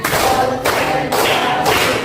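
Students in a class clap in unison to a counted beat, giving four evenly spaced, full-bodied bursts of many hands clapping at once, loud and near.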